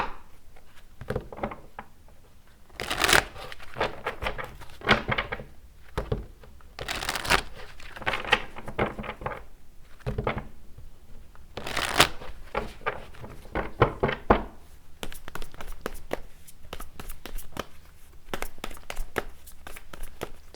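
Tarot cards being shuffled by hand, giving repeated riffling and crinkling bursts in uneven clusters, fairly close and moderate in level, with no talk over them.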